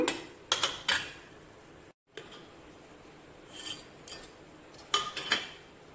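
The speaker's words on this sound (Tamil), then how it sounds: "இது இப்போ உப்பு போட்டு கரைச்சிட்டு பார்க்கலாம்" A spoon scrapes and clinks against a metal vessel while stirring thick ground foxtail millet idli batter with salt, in short close bursts with quiet gaps between strokes.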